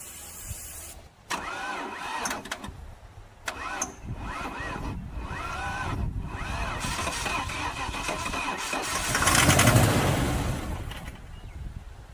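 A project car with a turbo setup cranking over, the starter whirring in several separate bursts before the engine catches and runs roughly, building to a louder rev, close by.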